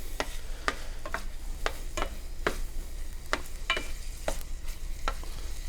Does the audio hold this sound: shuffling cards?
no